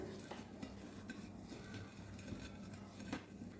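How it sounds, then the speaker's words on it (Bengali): Green chilies are rubbed and mashed with salt by hand in a quiet kitchen, giving soft, faint scraping and grinding strokes that repeat at an uneven rhythm. "মরিচ ভালো করে লবণের সাথে ডলে মিহি করে"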